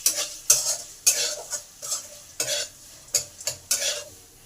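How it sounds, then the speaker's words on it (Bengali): Asafoetida frying in hot oil in a pan, with a soft sizzle beneath about nine rhythmic scraping stirs of a spatula, close and fairly quiet. "হিংটাকে ভালো করে ভেজে নেব।"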